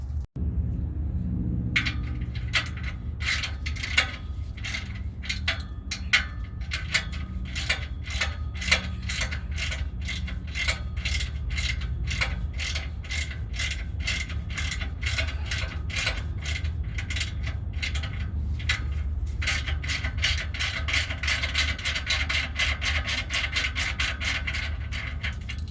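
A 14 mm ratchet removing exhaust bolts on a Toyota Tundra, rapid repeated clicking of the pawl in quick bursts over a low background hum, close up and steady throughout.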